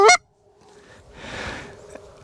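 A goose gives one sharp, loud honk at the start during an early season goose hunt in Minnesota, followed by quiet outdoor rustle and faint distant noise.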